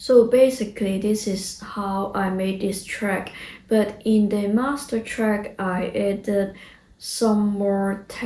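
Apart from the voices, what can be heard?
No distinct noise like a dog, phone or traffic.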